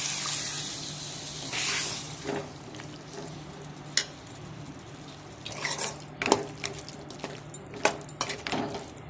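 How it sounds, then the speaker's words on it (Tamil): Water is poured into a pan of simmering raw jackfruit gravy, giving a brief rushing hiss near the start, followed by scattered clinks and scrapes of a utensil against the pan. "இது கூட கொஞ்சம் தண்ணி ஆட் பண்ணி கொஞ்ச நேரம் வேக விடலாம்."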